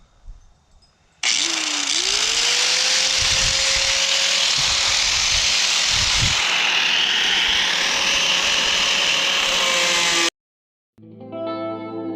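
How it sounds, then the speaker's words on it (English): Angle grinder cutting sheet metal for a custom floor pan on a 1957 Chevy, a loud, sustained high whine with gritty cutting noise for about nine seconds, then stopping abruptly. "Now I'm just going to trace it out as close as I can with the angle grinder."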